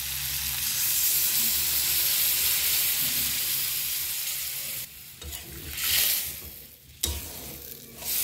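Rupchanda (pomfret) fish curry masala with bori sizzles loudly in a wok under steady stirring. Water is then poured in, setting off sudden gushing bursts of hissing steam that rise and fall.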